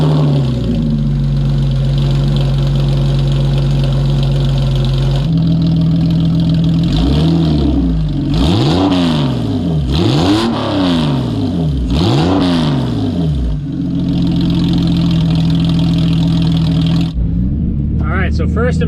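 A Porsche 996 with a new Bayside Fabrication race exhaust idles with a loud, deep, steady rumble, then is blipped through several quick rev rises and falls before settling back to idle, recorded close to the exhaust.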